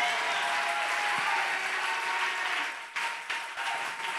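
A church congregation applauds in praise, producing dense, continuous clapping that holds steady for the whole stretch with a slight dip near the end and no talking.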